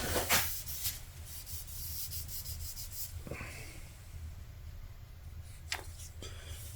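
Thin viscosity Glue Boost is wiped by hand across an ebony fretboard on a Drake Custom M5 five-string bass, a steady close-up rubbing swish with a few brief sharper scuffs, no talking.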